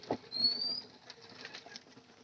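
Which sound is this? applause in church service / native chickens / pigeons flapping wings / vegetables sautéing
pigeons flapping wings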